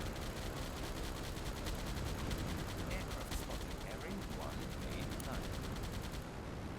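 Submarine deck guns fire in the naval game Silent Hunter 5, a rapid, sustained clatter of shots over dense battle noise, with a voice faintly present beneath and the barrage cutting off near the end.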